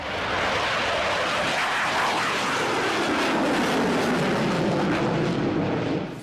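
A Rafale multi-role combat jet roars past overhead, a loud continuous broadband rush with a slowly shifting pitch that holds for several seconds, with no voices.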